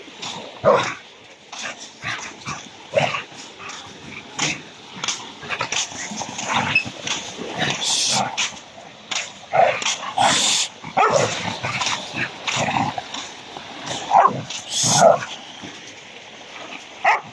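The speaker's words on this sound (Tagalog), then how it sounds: "Ang daming aso." Several dogs barking loudly and irregularly, close by, with sharp yips and overlapping barks in bursts throughout.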